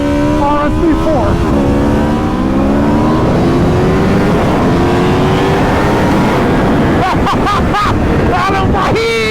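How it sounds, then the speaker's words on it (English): Aprilia RSV4 sport motorcycle, a 2021 model with an auto-blip quickshifter, revving hard and climbing through rising engine sweeps, then sharp throttle blips near the end, loud and close over heavy wind rush, with talking throughout. "Silky smooth. Still an amazing RSV4."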